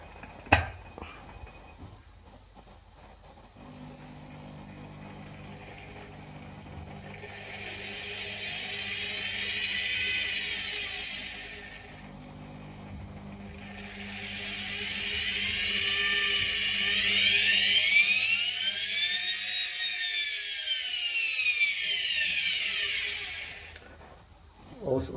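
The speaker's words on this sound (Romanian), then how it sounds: "Observați că motorul se învârte înspre partea dreaptă." A washing machine motor spins on a test rig, giving a hum with a high electric whine that swells, drops away, then rises again in pitch and loudness before cutting off.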